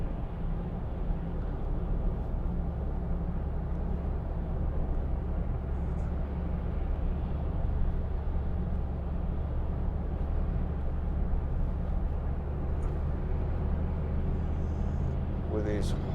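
Hyundai i40 1.7 CRDi diesel driving on a motorway at 50 mph: steady, constant low road and engine drone filling the cabin, unbroken and even in loudness throughout.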